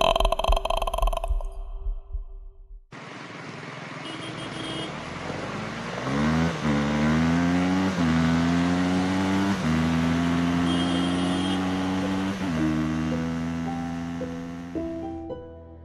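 A motorcycle sound effect follows a brief burst of other noise, the engine revving up through rising gear-like pitch steps, loud and close, then fading at the end.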